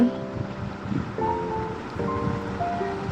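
Garlic and ginger paste sizzles in a frying pan as beef liver curry is started, with a steady, fairly loud hiss that runs throughout under a soft tonal background.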